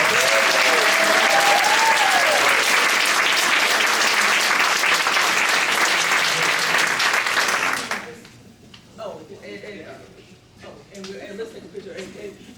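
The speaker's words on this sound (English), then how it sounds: "So let's give them one more round of applause." A crowd applauds mayoral and city council candidates at a Smyrna candidates forum, loud steady clapping for about eight seconds that stops abruptly, followed by quieter murmuring voices and talk.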